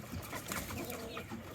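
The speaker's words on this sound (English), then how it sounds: "There's the rooster." Chickens and a rooster cluck and call from a backyard coop, soft overlapping bird sounds close by over steady outdoor background noise, with no talking.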